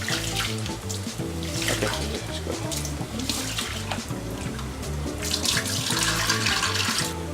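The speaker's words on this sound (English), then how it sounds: "So maybe I can go for washing the rice and pulses." Tap water runs steadily into a pot or sink while rice and pulses are washed for khichuri, a continuous close splashing flow with some clinking of the vessel, and a brief spoken word partway through.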